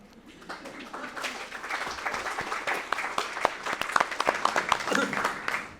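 An audience at a county school board forum breaks into applause, building from a few claps into a dense, sustained round of clapping that stays strong to the end.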